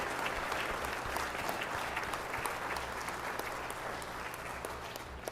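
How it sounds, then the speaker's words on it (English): A city council chamber audience in Los Angeles applauds in steady, dense clapping that holds at an even level throughout, with no voices over it. "A round of applause for Councilmember Holden."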